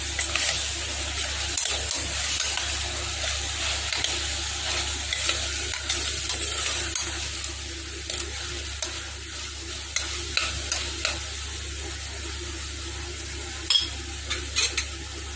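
Onions with ginger-garlic paste and turmeric get stirred in a pan, a soft continuous sizzle broken by repeated scraping spoon clicks, close and alone without speech.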